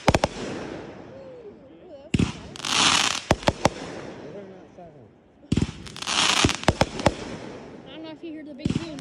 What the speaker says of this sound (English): I don't know if you heard the big boom. Those are fireworks.